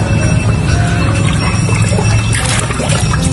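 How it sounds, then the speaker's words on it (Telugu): Water poured into a pot of rice to wash it in a home kitchen, a steady close splashing pour running throughout with a little clatter. "ఒక్కొక్క బియ్యం కడుక్కోవడానికి వాటర్ పోస్తున్నాం."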